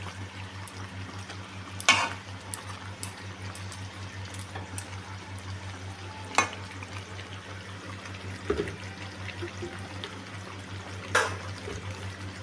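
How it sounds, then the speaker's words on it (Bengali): Chicken chaap with a ground cumin and coriander spice paste cooking in a pan, a low bubbling sizzle with a steady hum and occasional sharp spoon scrapes and knocks from stirring, close, no voices. "এখন আমি ভালো করে এটাকে নেড়ে চেড়ে রান্না করে নেব।"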